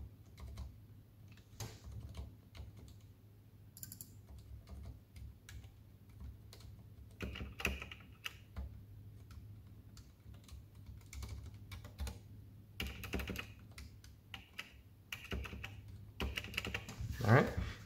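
Typing on a pure white Ducky One 2 Mini mechanical keyboard in ordinary gaming use, close irregular key clacks and bursts with heavier spacebar thumps, growing busier and louder near the end.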